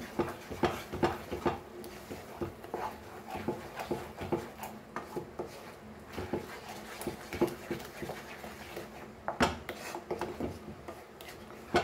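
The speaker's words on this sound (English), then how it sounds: "And we'll mix this and fry this masala nicely" Prawn masala with turmeric and coriander powder being mixed and fried in a pan for Goan prawns, with repeated scraping, clattering utensil strokes against the pan at a close, moderate level and no talk.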